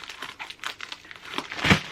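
Tear-resistant plastic packaging around a mailed package crinkles and crackles in quick irregular bursts as hands pull at it up close, ending in a louder rip, with no talking.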